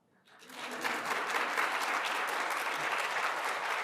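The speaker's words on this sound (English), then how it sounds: "I will pause and let you clap." Audience applause at a county keynote introduction swells up from silence within the first half second, then holds as a full, dense, sustained round of clapping from a large room.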